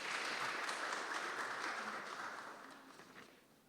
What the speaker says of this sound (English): That deserves a clap, don't you think?